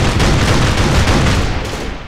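Rapid gunfire from the video game Operation Flashpoint: Dragon Rising crackles in a dense, loud burst of overlapping shots with a booming low end, fading slightly toward the end; no voices.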